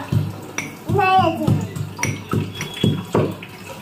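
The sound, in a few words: water running from a tap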